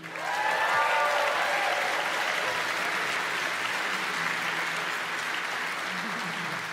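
Audience applause at the Juno Songwriters' Circle, a steady, dense round of clapping from a sizable crowd that holds for several seconds and slowly eases off, with faint voices underneath.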